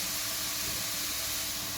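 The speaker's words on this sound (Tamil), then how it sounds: "ஆயில் சூடானதுக்கப்புறம் பொடியாக கட் பண்ணி வச்ச பூண்டு சேர்த்து, பூண்டு இந்த அளவுக்கு ஃப்ரை ஆனதுக்கப்புறம்" Finely chopped garlic frying in hot oil for a spicy garlic chicken dish, giving a steady, broad sizzling hiss that holds evenly throughout, close and moderately loud with no talking.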